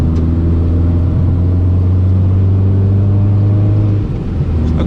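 An Abarth 595 with its 1.4 turbo engine drones steadily while driving on a wet, cold road, a loud, close cabin hum that dips briefly near the end.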